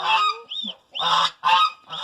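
A gosling gives several loud honking calls close by in quick bursts, nasal and insistent, with short pauses between them.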